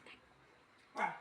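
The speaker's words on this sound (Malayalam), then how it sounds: "അതാ അവിടെ നായുണ്ട്" A single short dog bark, faint and distant, with a softer yelp just before it in an otherwise quiet setting.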